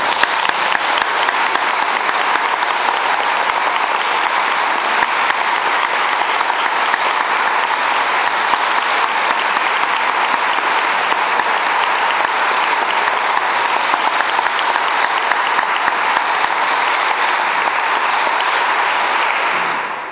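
A large audience applauds award winners at an afternoon prize ceremony, a dense, steady clapping that holds at full strength for about twenty seconds before cutting off.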